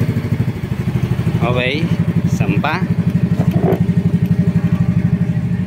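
A Yamaha Mio scooter-style motorcycle engine idles with a steady, close, throbbing drone that stays level throughout, while someone speaks briefly over it.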